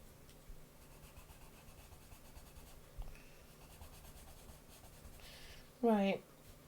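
Pencil or pen scratching and rubbing across sketchbook paper during a relaxed life-drawing session, a soft continuous rasp close to the mic, with a brief louder burst near the end.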